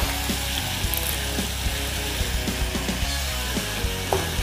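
Onions and curry leaves sauté in a pan with a continuous sizzle, broken by rhythmic scraping and knocking of a spatula against the pan.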